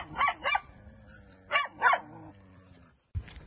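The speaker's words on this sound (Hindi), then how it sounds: "वो भौंके जा रहा है" A dog barks in two quick pairs of sharp, close barks with short pauses between, then falls quiet.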